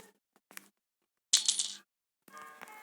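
A key is thrown and clatters down in the horror video game Granny, with a light tap, then a bright metallic clinking drop, then a second rattling landing, all alone without talk.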